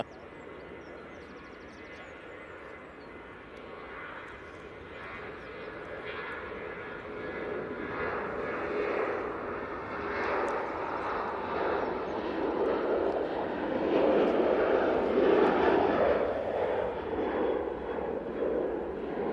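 A passenger airplane at Manchester Airport makes a steady, distant jet rumble that slowly swells louder toward the end, with no talking.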